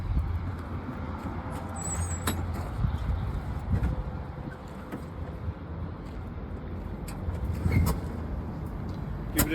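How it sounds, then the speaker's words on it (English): A front-load garbage route truck's diesel engine runs at a steady idle, a continuous low rumble with occasional brief clanks and hisses and no voices. "turn on the truck"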